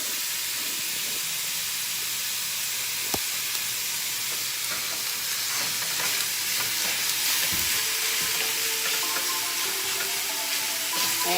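Beef steak for street tacos browns in a hot pan, a steady close sizzle and hiss of frying with occasional stirring clinks and scrapes, no talk.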